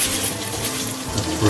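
Tap water runs over a terrarium piece being rinsed without soap at a sink, a brief steady splashing rush that swells slightly at the end, close and fairly loud.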